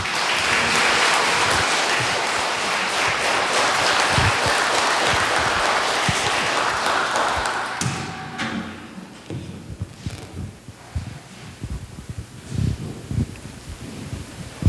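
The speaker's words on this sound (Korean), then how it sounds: "큰 박수로 환영해 주시죠." A crowd at a Lenten church lecture applauds loudly to welcome the speaker, with dense, steady clapping that fades out after several seconds, leaving scattered handling noises and movement.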